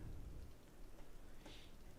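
Steady rain in Microsoft Flight Simulator 2024 patters and hisses across a surface, a soft continuous wash of drops with a faint low rumble beneath.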